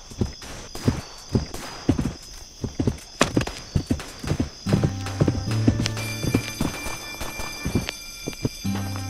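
Horse hooves clip-clop at a steady walking pace in a western video game, close and fairly loud, with a whinny and tonal game sounds joining partway through.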